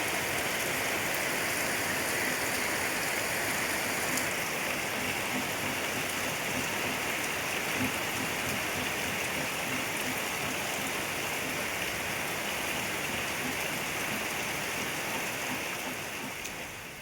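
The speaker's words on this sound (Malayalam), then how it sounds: "പിന്നെ മഴ അങ്ങ് നന്നായിട്ട് ഉറച്ചങ്ങ് പെയ്തു കേട്ടോ." Heavy rain pours steadily at a village home, a dense and even hiss of falling water that continues without a break and with no voices.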